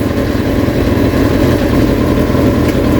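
A Kawasaki Ninja motorcycle engine, newly rebuilt, running steadily and loud up close, with a dense low mechanical drone that continues unbroken over a few seconds while the gearbox is worked through its gears.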